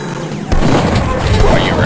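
A rocket explosion in Duke Nukem 3D lands as a sudden loud boom about a quarter of the way in, then leaves a dense, rumbling wash of noise that carries on to the end.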